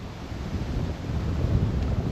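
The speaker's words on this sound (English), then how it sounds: "That wind is killer." Strong wind buffets the microphone in a steady, loud low rumble, with no talk, while a man travels through shallow water alone.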